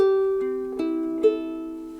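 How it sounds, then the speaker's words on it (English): A ukulele in standard tuning, its strings plucked one by one from highest first, four clear notes ringing and overlapping before fading. "this is how ukuleles normally sound"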